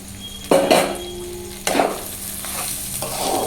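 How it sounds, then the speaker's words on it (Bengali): Food is stirred in a kadai over a low frying sizzle, with two or three sharp metallic scrapes and knocks of the spoon against the wok, close and without talk. "এটা এখন 5 মিনিট ধরে নাড়তে হবে"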